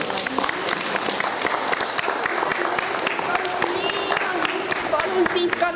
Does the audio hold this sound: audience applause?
yes